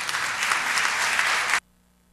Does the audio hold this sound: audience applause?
yes